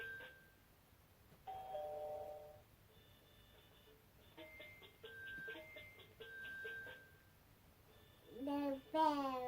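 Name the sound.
bells ringing from a children's touch-and-play sound book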